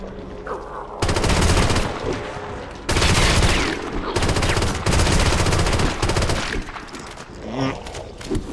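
A subcompact SMG fires in a modded Halo CE game. It lets off loud, rapid automatic bursts, several long volleys separated by short pauses, with game sounds trailing at the end.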